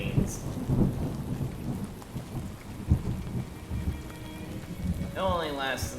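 Rain and thunder in the video game Fallout: New Vegas, a faint steady rain hiss with soft low rumbles beneath, and a voice talking over it.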